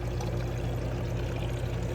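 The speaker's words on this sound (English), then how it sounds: "we have the water that's flooding all of these plants every 15 minutes or so" Water pours and trickles steadily into plastic propagation cups holding thornless blackberry cuttings in a flood system, a constant close rushing wash with no pauses.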